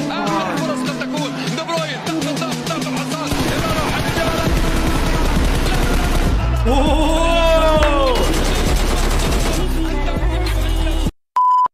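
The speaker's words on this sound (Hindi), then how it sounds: "क्या रनिंग शॉट्स मारे भाई" Rapid automatic gunfire fired while running in PUBG Mobile, loud bursts in a fast regular rhythm, followed by crashes, whooshing effects and electronic beeps in a busy, close mix.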